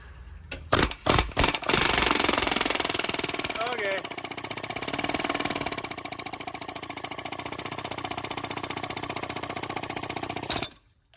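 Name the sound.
impact gun on reverse-threaded bolt, Ford 3.0 engine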